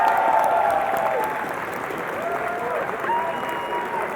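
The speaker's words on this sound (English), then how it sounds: "Can we give them a round of applause" Applause from a gaming tournament audience in Las Vegas, a continuous clapping crowd that eases slightly after the first second, with a voice speaking faintly beneath it.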